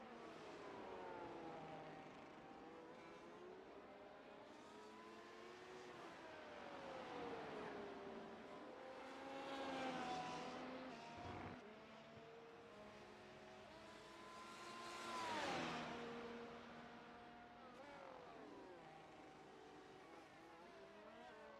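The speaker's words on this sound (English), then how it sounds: "We can hear Grigor there and see him on our screens just exiting turn 1, going into turn 2 now" Formula race car engines in a Hungarian GP sim race, high-pitched engine notes rising and falling through gear changes as cars accelerate and brake, with swelling passes, steady and moderately loud.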